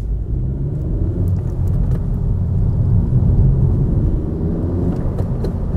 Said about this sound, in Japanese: まずはエアクリの音を楽しんでいきましょう。